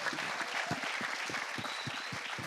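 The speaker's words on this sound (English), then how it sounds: "big round of applause for everyone" An audience claps for people being called onto a stage at an event: continuous dense applause from a sizable crowd, steady and moderately loud throughout the short stretch.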